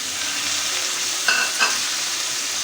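Beef liver sautéed with chui jhal in a pan, a steady bright sizzle throughout with two quick metallic scrapes of a spoon near the middle; no talking.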